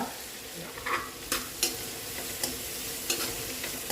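Kadaknath chicken masala being stirred and fried in a pan, with a steady sizzle underneath and several sharp scraping strokes of the spoon across the pan at irregular intervals, close and moderately loud.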